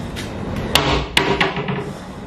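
Household doors are shut in a home kitchen: several sharp wooden knocks and thumps in quick succession, fairly close, with faint background sounds and no clear speech.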